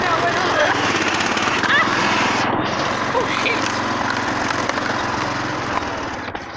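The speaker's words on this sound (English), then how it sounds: "we just mess around on the mower" Lawn mower engine droning steadily and loudly throughout, close by, as people talk over it.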